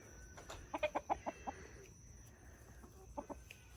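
Chickens clucking nearby in short bursts, a quick run of clucks followed by a pause and a few more, over quiet outdoor background.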